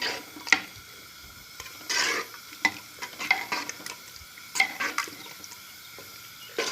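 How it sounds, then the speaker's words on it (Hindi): Frying in a handi pot for bathua saag gosht: quiet bubbling and sizzling broken by several sharp stirring scrapes and spoon knocks against the pot, close by, no speech. "थोड़ा सा इसको हमने फ्राई करना है हांडी में"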